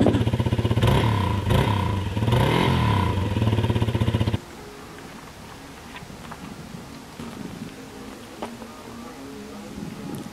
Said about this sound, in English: Let's give her a little rev. Give her a little cold rev.